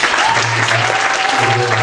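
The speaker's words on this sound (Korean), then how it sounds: "뜨거운 감사의 박수를" Church gathering audience giving warm applause of thanks, a loud, dense and steady burst of many hands clapping at once, with a faint low hum running underneath.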